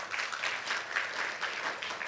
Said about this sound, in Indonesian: Gak ada tepuk tangan buat Tuhan Yesus?